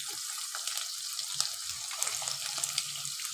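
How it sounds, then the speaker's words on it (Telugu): Chopped onions fry in a pan for pesara pappu, a soft, steady hiss with scattered tiny pops and crackles, heard close and fairly quiet with no talking. "ఆనియన్స్ కూడా మంచిగా ఇప్పుడు ఫ్రై అయితే అవ్వాలి."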